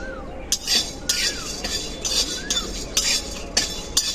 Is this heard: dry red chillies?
yes